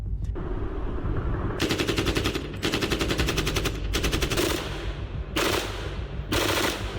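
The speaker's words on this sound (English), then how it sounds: "A single AK burst didn't announce Americans. It sounded like the enemy shooting at the enemy." Type 56 AK rifle firing on automatic, heard as about five loud, sharp bursts of rapid shots separated by short pauses, with no voices.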